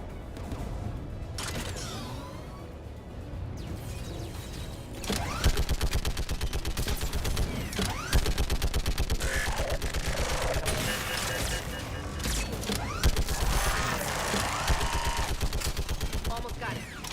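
Sustained rapid gunfire and mechanical clatter in a Mass Effect 3 battle on Rannoch while an AA gun is being disabled, loud and dense with bursts overlapping, and voices speaking over the fighting.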